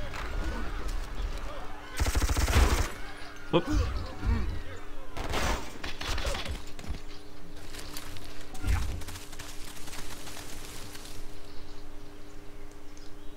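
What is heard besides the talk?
machine guns firing in Civilization V video game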